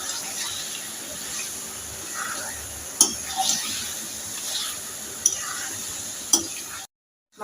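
Mutton and spices, including Sunrise meat masala, frying in a wok with a steady close sizzle, broken by a few sharp scrapes and clinks of a stirring utensil before cutting off abruptly.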